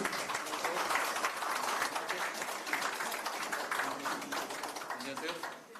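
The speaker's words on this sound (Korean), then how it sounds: "경기도를 찾아주신 주요 당사자분께 큰 박수를 부탁드리겠습니다" Audience applause fills a hall at a ruling-party leadership meeting held at a farm cooperative logistics center in Anseong, a steady dense clatter of many hands that holds throughout with some voices beneath, then eases off near the end.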